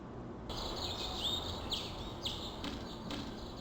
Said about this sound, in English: And that chirping sure is loud for a second.